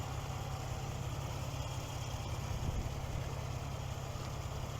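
Steady low idle hum of a 2022 Ford Expedition Limited's twin-turbo 3.5-liter EcoBoost V6, a continuous even drone with no voices over it.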